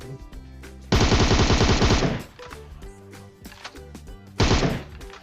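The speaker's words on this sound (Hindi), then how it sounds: "जो भी गन मिली है उसे उठा के आगे जो 4 बंदे आए हैं उन्हें पेलने जा रहा हूं" Automatic gunfire in the PUBG Mobile video game at a military base, two loud rapid bursts of shots, the first about a second long and the second shorter, over quieter game sounds and no speech.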